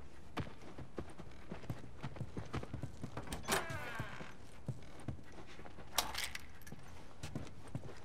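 Hooves clip-clop at a steady walking pace in The Last of Us Remastered, at The Dam, with light jangling tack, moderately close and without talk.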